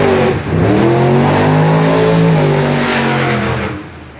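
A drag racing car's engine revs hard and loud at close range, a steady roaring drone with rising and falling pitch that holds for several seconds before tapering off at the end.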